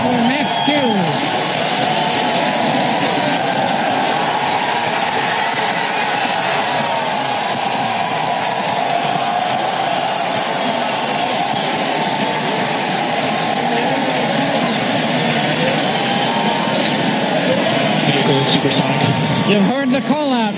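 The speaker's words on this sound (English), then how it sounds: "Falcon Heavy heading to space on our test flight" A SpaceX Falcon Heavy rocket climbs during its test flight launch from pad 39A, its engines giving off a dense, steady, unbroken roar at constant loudness throughout.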